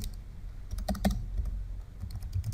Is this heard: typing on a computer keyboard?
yes